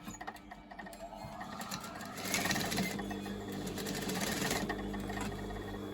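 Electric sewing machine running steady bursts of stitching to reinforce a trouser hem and catch in the overlocking, a close mechanical whir that speeds up and continues with no talk.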